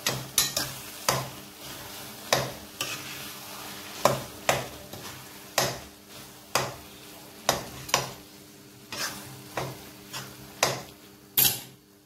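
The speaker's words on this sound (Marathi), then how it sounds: "आता ही खिचडी यात व्यवस्थित अशी मिक्स करून घ्यायची आहे" A spoon scrapes around a pot of dal palak khichdi in steady, rhythmic strokes, about a dozen stirs in a row over a soft, ongoing sizzle.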